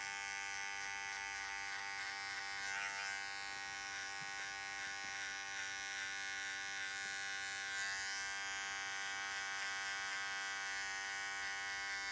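Steady close buzz of electric hair clippers cutting a tight fade, a continuous hum with faint shifts as the blade moves through hair, heard alone without talk.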